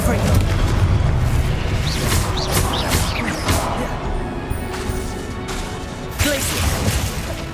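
Booming magical blasts from the Confringo spell in Hogwarts Legacy erupt repeatedly amid combat crashes, loud and close, with a voice calling out over the din.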